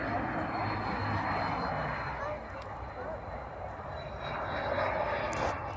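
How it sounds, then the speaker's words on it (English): A Cessna Citation jet lands near the Tulsa Air and Space hangar. It makes a steady, moderate, somewhat distant roar that holds throughout. "There's a Cessna Citation landing."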